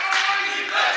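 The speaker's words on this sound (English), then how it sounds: "Crowd yelling defense for their Raiders." A basketball crowd at a high school boys' game chants and yells defense in a brief, loud, sustained roar of many voices filling the gym.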